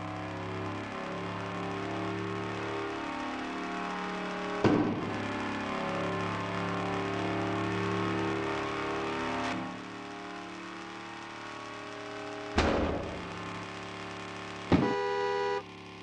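An old car in the Car Parking driving game revs loudly with a rich, harmonic engine tone. Sharp bursts of throttle land around a steady idle, with no talk over it.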